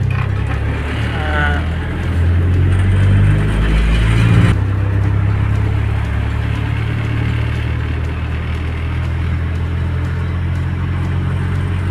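A Nissan Big M single-cab pickup with a red-top engine rolls along, its engine humming steadily and close, with a brief rise in revs early on, while someone talks over it.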